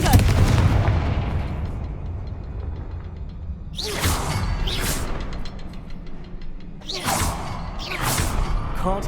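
Confringo blasting spells cast in the Hogwarts Legacy video game, several loud whooshing bursts with heavy booming impacts arriving in pairs over a low rumbling ambience.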